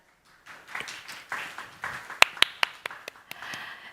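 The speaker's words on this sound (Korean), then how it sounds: "다시 한번 박수 부탁드리겠습니다." A forum audience applauds, scattered claps building into a fuller round with a few sharp, close hand claps standing out, and no voices.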